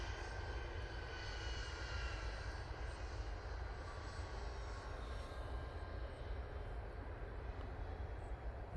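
A Norwegian airliner arriving from Oslo at Manchester Airport, heard as a continuous distant jet roar, steady and broadband throughout with no talk.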